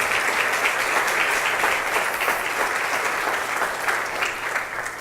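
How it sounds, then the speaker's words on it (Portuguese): A church congregation applauds during a morning worship service, a steady, loud wash of many hands clapping that fills the room without a break and eases slightly toward the end. "se aplaude e glorifique o nome do Senhor"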